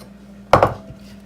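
Chopped onions and apples tumble into a large slow cooker crock pot for pork chops, a single short cluster of soft thuds and light knocks up close, then quiet.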